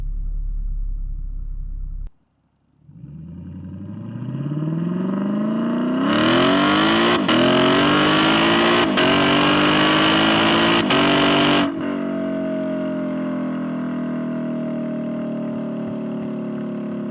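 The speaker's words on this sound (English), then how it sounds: "I will give you guys some high RPM upshifts, and these are all going to be quick shifts." A Lexus LC 500 pulls away from a stop with a close, loud engine climbing through the revs, then holds a roaring high-RPM run broken by several quick, sharp upshifts before settling to a steady cruise drone.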